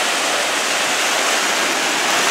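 Ocean surf at the beach roars as a loud, dense, continuous wash of breaking waves, close by and with no voices over it.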